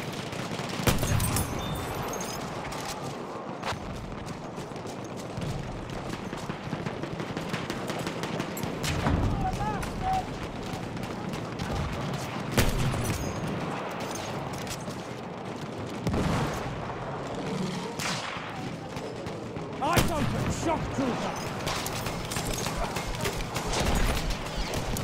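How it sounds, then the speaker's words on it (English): Machine gun fire and battlefield gunshots in the World War I shooter Battlefield 1, dense continuous bursts with heavy impacts and occasional louder blasts, under shouted voices and game chatter. "Enemy machine gun!"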